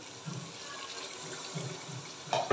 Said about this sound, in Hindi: अभी इनके अंदर मैं हाफ कप पानी ऐड करूँगी